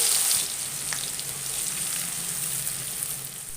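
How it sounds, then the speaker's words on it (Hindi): Ground masala sizzles and fries in oil previously used to fry onions, a loud, steady crackling hiss that starts slightly sharper then settles into continuous frying with no talk. "अब ये मसाला इसके अंदर डाल दूंगी, भून लूँगी।"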